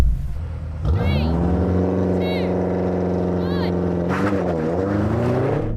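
At the start of a race a car engine roars up sharply to a loud, sustained rev with a steady droning pitch, then climbs and wavers again near the end, while brief voice exclamations cut in over it.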